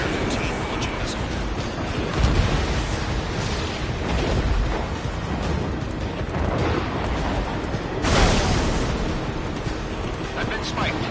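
Dense, roaring combat in Ace Combat 7: a continuous jet-engine rumble with heavy booms and bursts from missile launches and explosions, and a louder blast near the end, under radio chatter.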